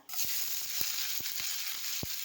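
Cumin and chopped onions frying in a hot pan, a close steady sizzle with occasional sharp crackles and pops.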